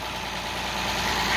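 A 1971 Oliver 1855 tractor engine idles steadily at close range, a continuous even rumble with no voices over it.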